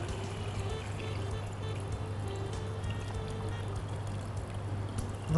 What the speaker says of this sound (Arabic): وراح نجي نضيف المي